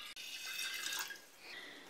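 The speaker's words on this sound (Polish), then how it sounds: "Teraz do drugiego słoja wlewam 250 ml wody" Water flows steadily into a glass jar as 250 ml is poured while making dandelion flower liqueur, a continuous close trickling splash with a brief break at the start, with no voices.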